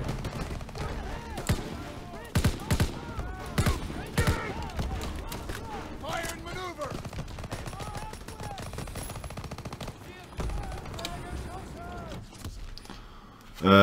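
Rapid gunfire rattles through a Call of Duty: WWII battle, with bursts of shots aimed at the player clustering early on, then a steadier mix of distant firing and combat noise.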